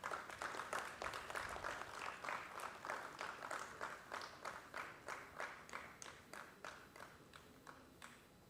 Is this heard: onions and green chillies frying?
no